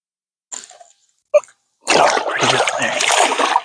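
Blue catfish splashing as it is held in lake water before release, a couple of brief soft noises followed by a close, loud burst of thrashing water.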